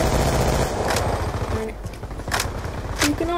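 Gunfire in the Call of Duty video game, loud bursts of rapid shots over a dense battle din, with a few sharp isolated reports near the end.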